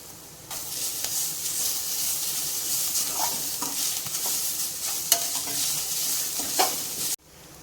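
Masala for drumstick poriyal sizzles and fries in a pan while being stirred, a steady bright hiss broken by scattered scraping clicks of the spoon, ending abruptly after about seven seconds.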